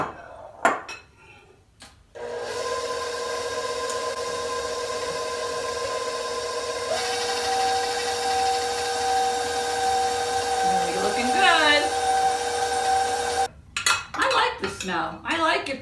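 Dry ingredients being mixed into a heavy, wet hot cocoa cookie mixture in a bowl, with a long steady whirring and scraping churn and some clinks of utensils. Brief speech comes before and after.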